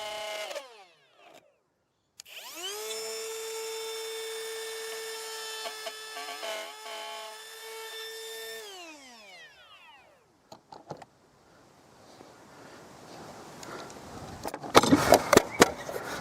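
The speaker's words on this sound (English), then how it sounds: "we've got all the splines cut in now" A power tool cuts spline slots into a wooden box, starting with a sustained high motor whine that holds steady and then winds down. Scattered clicks and handling knocks follow, and the clip ends with a short burst of louder rattling.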